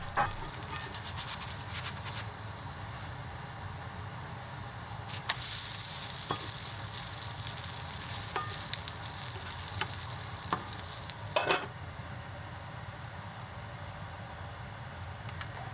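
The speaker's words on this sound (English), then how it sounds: "After 5 minutes, flip the okonomiyaki and cook for another 5 minutes covered." Okonomiyaki, a Japanese savory pancake, fries steadily in a covered pan, giving a continuous low sizzle with a few brief clatters, including a louder burst about midway, and no talking.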